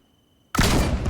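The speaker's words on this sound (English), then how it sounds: "a double-barrel shotgun blast point blank to the chest calms him right down" A double-barrel shotgun blast in the video game Project Zomboid, one sudden loud close boom after near silence, ringing on briefly with no talking.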